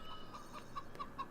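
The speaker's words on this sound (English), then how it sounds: "Chickens." Chickens in a hen house in Farming Simulator 15 cluck in short repeated calls, about five brief clucks spaced evenly over a low steady background hum, moderately faint and with no voices.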